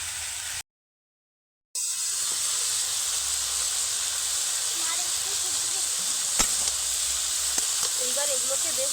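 Yardlong beans and grated vegetables frying in oil for poha give a steady, close hiss and sizzle with a few light clinks, broken by a brief silent gap near the start.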